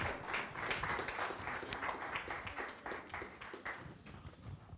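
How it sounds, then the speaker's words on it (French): An audience at an Eco Actions trophies ceremony applauds the mayor and municipal council, a dense, steady round of clapping that holds at moderate loudness for the whole stretch and tapers slightly at the end, with no voices. "on peut applaudir la détermination du maire et du conseil municipal"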